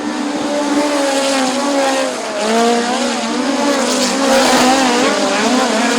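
Midget race cars scream around the dirt oval at Bubba Raceway Park, their high engine whine rising and falling as several cars pass close and loud, with a constant roar behind them.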